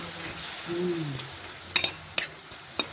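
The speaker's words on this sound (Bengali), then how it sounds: "নারকেলগুলো নাড়াচাড়া করে ভালোভাবে চিনির রসের সাথে মিশিয়ে নেবো" Grated coconut being stirred into sugar syrup in a pan: a soft scraping stir with a faint simmer, followed by several sharp clinks of a utensil against the pan.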